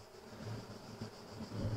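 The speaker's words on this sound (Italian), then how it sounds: "la vedo coperta di api" Honeybees buzz softly around a queen cage on a hive frame, a faint, steady, close droning hum over a short moment, with no speech.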